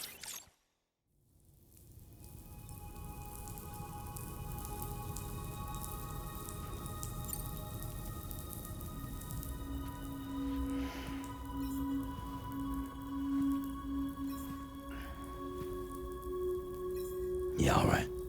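Steady rain falls in the video game Death Stranding 2, a continuous even patter and hiss that holds for the whole stretch, with soft sustained musical tones running underneath.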